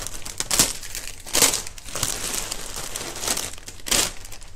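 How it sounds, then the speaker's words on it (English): Cellophane wrapping on a hand-tied flower bouquet crinkles and crackles as it is trimmed, with several sharper crunchy bursts over a steady rustle, close and fairly loud. "with my little bits of cellophane that pop out at the sides there, I give them a little bit of a trim."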